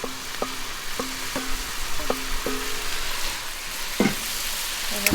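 Foraged shingles-beach food fries in extra oil in a pan at a caravan campsite, a steady close sizzle broken by a handful of light metallic taps and clinks.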